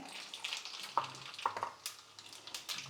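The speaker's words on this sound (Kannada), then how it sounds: "ಒಗ್ಗರಣೆಗೆ ಒಂದು ಎರಡು ಸ್ಪೂನ್ ಎಣ್ಣೆ ಹಾಕ್ತಾಯಿದ್ದೀನಿ ಸಾಸಿವೆ ಹಾಕ್ತಾಯಿದ್ದೀನಿ" Mustard seeds crackle and sizzle in one or two spoons of hot oil as a tempering for a vegetable bassaru, with scattered sharp pops over a soft steady frying hiss, close but fairly quiet, and no voices.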